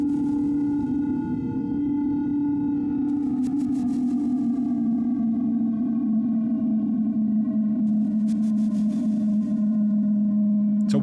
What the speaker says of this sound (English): So this is the looper going through the ambience.